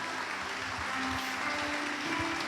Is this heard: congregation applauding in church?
yes